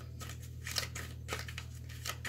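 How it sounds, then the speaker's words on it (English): Tarot cards being shuffled by hand, giving a string of soft papery riffles and flicks that come in short bursts over a steady low hum, fairly quiet and close with no talking. "I know I'm shuffling them in a way where they can come out reversed"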